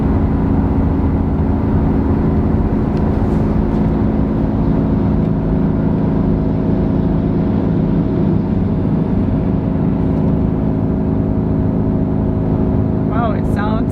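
A 2018 Chevrolet Silverado pickup engine droning steadily at about 3,200 RPM while climbing a long mountain grade, a loud continuous hum and road noise heard from inside the cab throughout.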